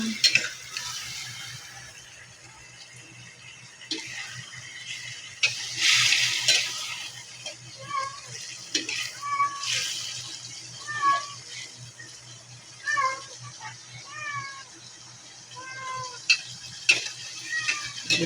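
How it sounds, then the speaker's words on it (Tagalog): Shrimp paste (bagoong) sautés in a pan for a bulanglang dish, giving a soft sizzle under repeated scraping stirs and clinks of a utensil against the pan. "Bisa-bisa ko muna siya guys para matanggal yung lansa ng bagoong"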